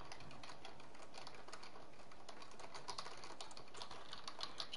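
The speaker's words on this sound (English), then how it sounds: "You guys hear me typing?" Computer keyboard typing heard faintly: rapid, uneven clicks keep coming throughout with no talk over them.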